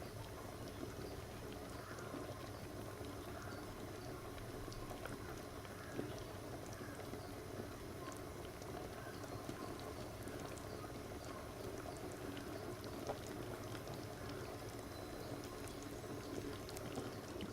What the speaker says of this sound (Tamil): இப்போ கொதிக்க ஸ்டார்ட் பண்ணிடுச்சு.